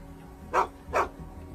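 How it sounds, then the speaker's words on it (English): A dog barks twice at a squirrel up a tree, two short, sharp barks about half a second apart, fairly close, over a quiet outdoor background. "dog had a squirrel treed, and he was barking at it"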